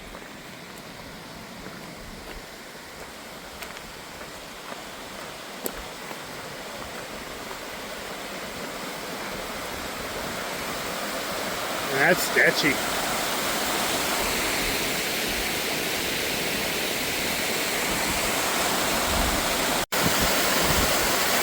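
Rushing ice-cold mountain water at a creek crossing on a hike from Many Glacier to Fifty Mountain in Glacier National Park, a steady broadband roar growing louder as the crossing nears, with a brief spoken remark over it.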